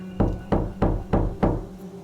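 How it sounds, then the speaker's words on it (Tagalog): Five dull knocks on a wooden bed, evenly spaced about a third of a second apart, close and moderately loud with no talking. "narinig kong muli ang mga katok sa kama"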